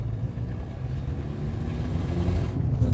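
A car with a noisy engine that cost 90 quid to fix runs steadily and close up, a rough low rumble with a wind-like hiss on top.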